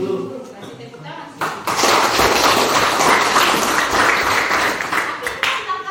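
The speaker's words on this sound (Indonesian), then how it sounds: "Kasih tepuk tangan." Students in a classroom burst into steady, close applause that swells after a brief pause and holds for several seconds, with some talk beforehand and voices underneath.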